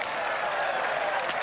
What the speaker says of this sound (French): Applaudi comme il se doit